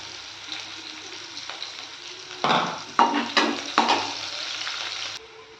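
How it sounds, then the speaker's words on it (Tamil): Onions sauté in a pan for an ivy gourd pepper gravy, a steady close sizzle broken by several scraping stirs of the spoon that briefly swell louder before the frying settles back. "இப்போது ஆனியன் நல்லா வதங்கிடுச்சுங்க"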